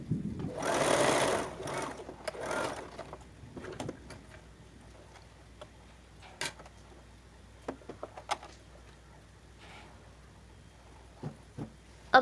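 A sewing machine stitches down the centre of a collar strip, a close, loud burst of whirring at the start, followed by scattered clicks and handling taps as the fabric is turned.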